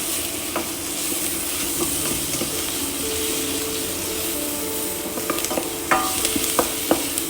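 Shallots with salt sweating in a pan for cooking asparagus, a steady close sizzle with scattered light stirring scrapes and clinks that grow busier toward the end.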